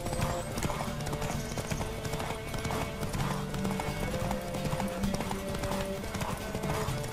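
Horse hooves galloping in The Witcher 3, a fast continuous clip-clop rhythm throughout, loud and close, layered with game ambience and faint background sounds of other riders.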